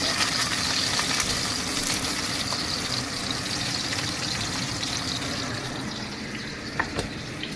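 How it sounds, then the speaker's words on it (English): Two onions and a green apple searing in a hot pan over high heat: a steady, dense sizzle that continues unbroken throughout, fairly loud and close, with no talk. "Now we'll be searing the 2 onions and the green apple on high heat"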